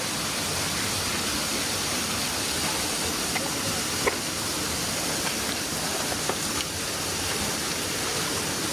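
Steady broadband rush of a waterfall in Sivridağ National Park near Antalya, heard as a constant, even hiss filling the whole clip with no pauses, with faint scattered clicks on top.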